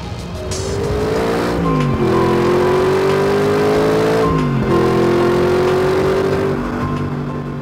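An Audi R8 sports car drives sideways on an ice track, its engine revving loud and close with rising and falling pitch as the throttle is worked, continuous throughout with no one speaking.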